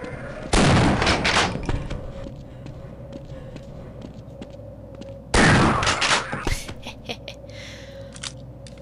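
Two loud, booming shotgun blasts several seconds apart come from a player shooting zombies in Half-Life, each with a long rumbling tail, and quieter game sounds fill the gaps.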